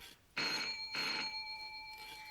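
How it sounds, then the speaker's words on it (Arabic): A telephone rings in a home during an Egyptian TV drama scene, with two loud bell bursts and a steady ringing tone that lingers behind them; no one speaks. "حد يرد على التليفون"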